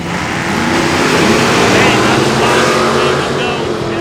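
A 1972 Chevy Nova and a Camaro drag racing side by side at Lonestar Motorsports Park, loud roaring engines sustained at full throttle, close and dense, with an announcer talking over them.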